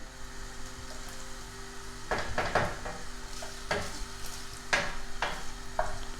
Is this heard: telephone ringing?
no